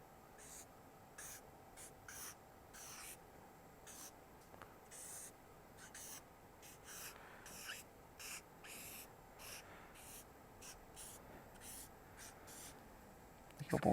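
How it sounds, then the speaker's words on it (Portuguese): A marker squeaks across a flipchart while a circuit is drawn, a series of short, irregular scratchy strokes close by with brief pauses between them, ending in a soft clatter. "eu vou desenhar no flipchart esse circuito para ir explicando para vocês como é que funciona"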